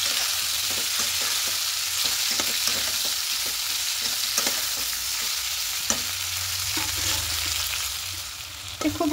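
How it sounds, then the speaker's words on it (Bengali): Jujubes being stirred in a hot pan with spices for a jujube pickle, a steady close sizzle of frying broken by repeated scraping stirs at an irregular rhythm, with no talking. "খুব ভালো করে নাড়াচাড়া করে দেবো।"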